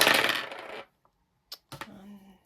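Six dice roll and clatter together in a board game, a dense rattling burst that stops abruptly, then a couple of short clicks and a brief second rattle close by.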